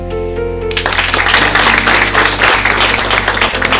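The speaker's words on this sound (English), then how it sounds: "welcome with warmth in our hearts and with a resounding round of applause" At a college panel discussion, a short sustained tone gives way to a warm round of audience applause that carries on steadily over a low hum.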